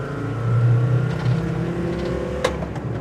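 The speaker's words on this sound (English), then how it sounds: "let's floor it. That's full throttle." A Mercedes G-Wagon under full throttle gives a steady, loud engine drone with rising tonal harmonics. A sharp click or shift transient comes near the end, and the engine keeps pulling throughout with no speech.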